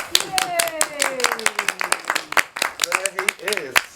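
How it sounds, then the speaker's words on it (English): A cinema audience at a director Q&A claps in scattered, irregular bursts, with sharp hand claps over a voice still talking. "a round of applause,"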